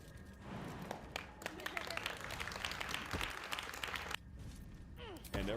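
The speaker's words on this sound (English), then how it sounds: "And everyone claps." A crowd of women stands around a Massachusetts bill signing and claps steadily, the dense applause holding for several seconds before briefly dropping and then resuming.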